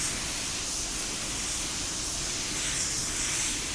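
A spray gun lays clear coat onto car bumpers, giving a loud, continuous airy hiss that stays steady and close throughout with no talking.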